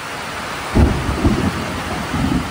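Thunder rumbles low and deep during a monsoon rain, one heavy rolling boom followed by two softer growls, all above a steady hiss of rainfall.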